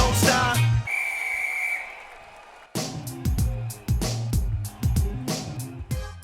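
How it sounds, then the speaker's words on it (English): A whistle blown to open a sporting contest sounds as one sustained, steady shrill tone lasting about a second, set against a loud hip-hop beat that stops briefly, then returns with punchy drums. "on the sound of the whistle, let the games begin"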